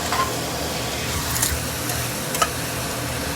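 Egg frying with tomato, onion and garlic in a pan, a soft continuous sizzle with light stirring scrapes, close and steady, no talking.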